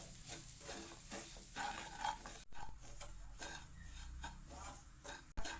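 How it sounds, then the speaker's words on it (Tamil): Semolina stirred and roasting in ghee in a pan, a steady soft sizzle with scraping stir strokes throughout, close and moderately loud, with a couple of sharp knocks near the end. "இதே நெய்யில் நம்ம ரவையை கொட்டி வறுத்துடலாம்."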